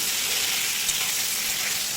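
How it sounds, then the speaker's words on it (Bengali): Cauliflower florets frying in a pan with a pinch of salt give a steady, close, dense sizzle that holds evenly throughout, with no talking. "দিয়ে দিচ্ছি ফুলকপিগুলো ফুলকপিগুলোকেও ভেজে নেব"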